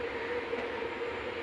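A Kochi metro train rolls in at a station in Ernakulam, Kerala, a steady broadband rumble and hiss holding at an even level throughout, with no voices.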